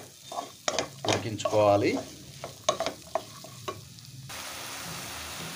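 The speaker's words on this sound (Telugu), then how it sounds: "మంటని అయితే లో ఫ్లేమ్లోనే పెట్టుకొని మనం వీటిని అయితే ఒక 2 minutes వరకు అయితే ఇలా కలుపుకుంటూ" Pointed gourd (parwal) pieces fry on a low flame while being stirred in a pan, giving soft sizzling with scraping and clinking of the spoon, and a voice speaks briefly near the end.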